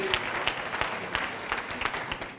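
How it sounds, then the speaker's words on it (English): A church congregation claps steadily in scattered, uneven applause, moderately loud and sustained throughout with no voices over it. "let's clap for them."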